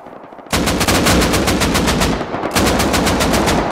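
Rapid automatic gunfire in the console version of the video game Rust, starting abruptly after a quiet moment and hammering in fast, loud, close bursts with a brief dip midway before resuming, no voices.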